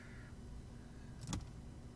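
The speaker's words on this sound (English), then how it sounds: "it's not an extremely loud sound, just the car unlocking" A car unlocking in the detective game Contradiction, a brief soft electronic chirp with a faint click around the middle, quiet against a steady background hum, no voices.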